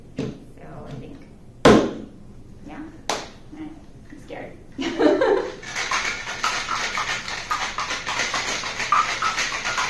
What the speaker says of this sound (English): So then you get to shake it up